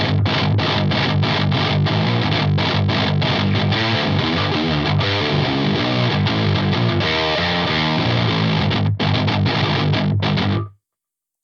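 A 7-string guitar runs through an EQD Palisades overdrive with added saturation, playing a dense, continuously distorted riff with chugging low notes and sustained chords before stopping abruptly.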